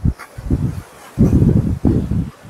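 Wind blowing on the coast of a Halmahera island fishing spot, low rumbling gusts buffeting the microphone in uneven surges, loud and close.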